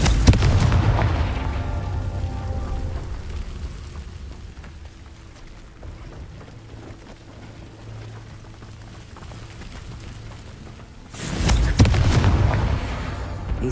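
A Confringo fire spell in Hogwarts Legacy blasts with a loud, deep booming burst, followed by a long rumbling decay, then a second heavy explosion near the end, with no talk over it.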